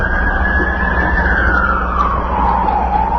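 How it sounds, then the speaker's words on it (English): An emergency vehicle siren wails loudly and continuously in a downtown street covered by smoke, its tone sliding slowly downward over a steady low rumble of traffic. "That siren is our world."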